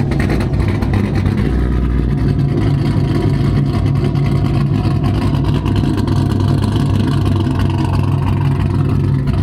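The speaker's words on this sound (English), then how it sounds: "This truck sounds really good." A loud truck engine with an aggressive cam rumbles and revs steadily, deep and throaty, with a rough idle lope throughout and no voices.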